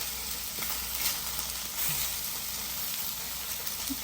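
Vegan chopped cheese sizzling steadily in a hot pan as it gets a final mix, a loud, continuous close-up frying hiss with faint stirring scrapes.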